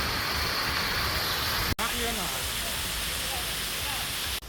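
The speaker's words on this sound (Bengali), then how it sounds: "এত সুন্দর লাগছে ঝর্ণাটা দেখুন এই ঝর্ণার পানি প্রবাহিত হয়ে কোথায় যাচ্ছে" Steady, dense roar of a waterfall fills the air without pause at Green Valley Park in Lalpur, Natore, with faint voices barely audible beneath the rushing noise.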